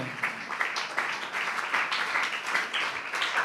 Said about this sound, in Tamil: நல்ல கைத்தட்டி ஆண்டவருக்கு நன்றி சொல்லுங்க.